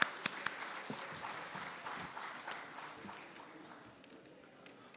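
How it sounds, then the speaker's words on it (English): Audience applause at an international conference on spacecraft missions, welcoming a keynote speaker to the stage; a steady, moderately faint patter of many hands clapping that thins out toward the end. "Please welcome him with a big round of applause."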